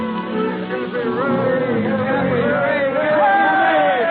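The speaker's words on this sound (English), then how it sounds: "Cappy Ricks, the president, faces a huge crowd of sailors and ship owners. In typical waterfront fashion, they're congratulating the old-timer on his 60th birthday" A large waterfront crowd of sailors and ship owners cheers and congratulates an old ship company president on his sixtieth birthday in a radio drama, a dense wall of overlapping shouts and voices, loud and continuous throughout.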